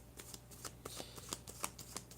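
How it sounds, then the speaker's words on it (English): A deck of tarot cards is shuffled, giving a quick run of riffling flicks in an uneven rhythm, close and soft against a low steady hum. "I'm going to shuffle again because I don't understand what I'm seeing here"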